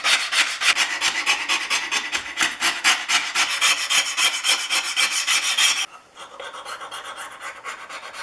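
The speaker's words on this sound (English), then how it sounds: "I'm going to take all these flat metal pieces that you see right here, and I'm going to scrape them with my scraper." A card scraper works over flat metal parts of a Stanley No. 20 circular plane, making fast rhythmic rasping strokes that are loud and close, and the strokes soften near the end, with no talk.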